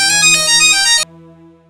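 A phone rings with a bright electronic melody in a Malayalam TV serial scene, loud and busy for about a second before cutting off abruptly, leaving a quieter sustained tone behind.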